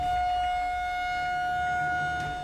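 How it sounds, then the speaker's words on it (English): An outdoor emergency warning siren sounds as a steady, sustained electronic tone, loud and continuous throughout with no voices. "We may often hear warning sirens, but do you know what they really mean?"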